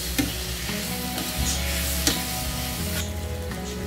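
Tomato and chicken breast fry in a pan, giving a continuous close sizzle with a few light utensil knocks and stirring scrapes and no talking.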